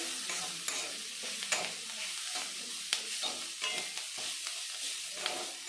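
Flat beans frying in a pan for a mashed bean dish, a steady quiet sizzle broken by repeated scraping and clinking strokes of a stirring spatula at irregular intervals.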